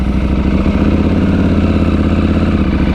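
A KTM 790 Adventure R parallel-twin motorcycle engine runs close and loud at a steady low rumble, a dense even throb with no pauses.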